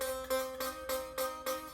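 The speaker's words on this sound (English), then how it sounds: "You don't want it to sound like this," A buzzy slide note on a three-string cigar box guitar rings quietly, repeatedly re-struck in a steady rhythm of about six pulses, each with a rattling, raspy edge.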